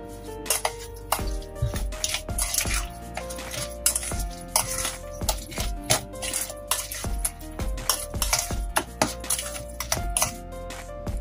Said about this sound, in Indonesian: Dan ini aku aduk dulu ya